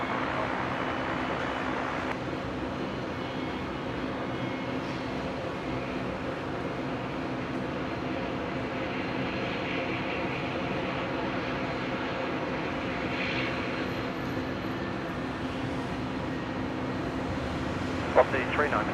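Aircraft departing Brisbane airport on runway 19 right, heard as a steady, distant engine roar that holds evenly throughout with little change in loudness.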